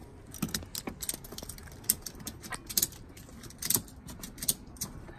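A ratchet strap is cinched down to hold a robot cart in place inside a van. Crisp clicking and metallic rattles come in irregular bursts, close and sharp, with no talking.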